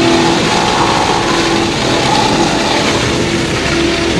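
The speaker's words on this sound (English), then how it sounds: "Excuse the noise, that's a sawmill next door" Sawmill machinery running next door, a loud, dense, continuous mechanical whine and rattle that fills the whole clip without letting up.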